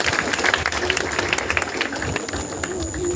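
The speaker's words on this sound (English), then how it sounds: "give her a big round of applause" Audience claps after a student's Independence Day speech at DPS Supaul school, a dense, steady round of applause from a crowd lasting a few seconds.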